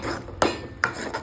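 A spoon stirring egg gravy in a pan knocks twice against the metal, giving two quick clinks over a soft background hiss.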